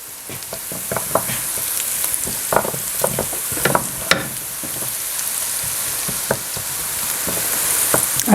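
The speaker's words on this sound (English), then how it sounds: "add my ginger and my garlic to this. And you want to saute this for about 30 seconds" Ginger and garlic sauté in a pan for a spiced chicken dish, a close, continuous sizzle with scattered crackles and occasional stirring clicks, steady and alone.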